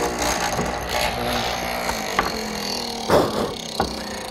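A mortising machine with a 1/2 inch square chisel cuts a mortise for Morris chair legs, giving a running mechanical hum with several sharp knocking plunges into the wood, close and fairly loud.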